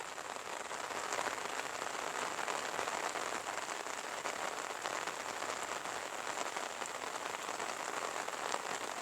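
Steady rain falls throughout, a dense, even hiss of drops pattering on surfaces with no letup and no voices over it.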